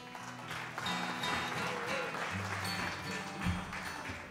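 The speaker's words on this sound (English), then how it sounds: "Don't applaud too much" Modest audience applause at a band's concert in the Mauch Chunk Opera House, soft scattered clapping held fairly low beneath a hum of tones and a lingering chord.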